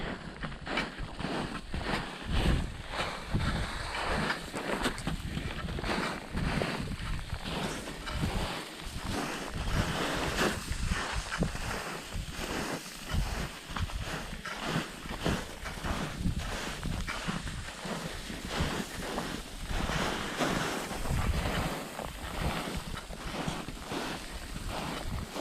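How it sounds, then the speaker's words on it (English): Steady wind buffets a mountain slope high on Mt. Massive in spring, a broad continuous rush with gusting swells and rumbling low buffeting throughout, close and fairly loud, no talking. "Wind is picking up a bit."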